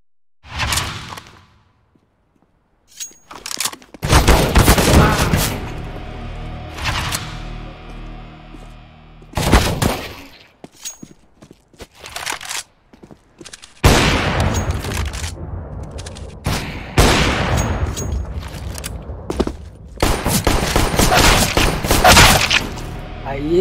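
Bursts of gunfire from bot opponents in a Counter-Strike match, with loud volleys and scattered single shots spread across the clip, broken by short quiet gaps.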